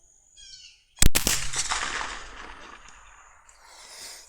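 .22LR rifle fired at a steel silhouette target about 300 yards downrange: one sharp, loud shot followed by a second crack, then a long decaying echo; faint birdsong before the shots.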